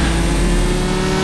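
Car engine held at full throttle in the CSR2 drag racing game, a loud, steady high-revving drone with no break across the short stretch.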